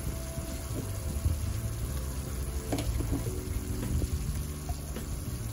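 Minced garlic sizzles and fries steadily in a hot pan, a continuous close crackle with a few brief stirring scrapes and clinks over it.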